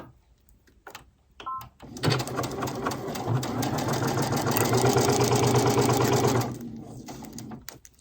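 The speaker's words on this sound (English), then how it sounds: "So get your 1/4 inch seam set." A sewing machine runs a continuous stitch along a quarter-inch seam, a fast mechanical whirring rattle that starts after a few clicks, holds steady for about four seconds, then stops.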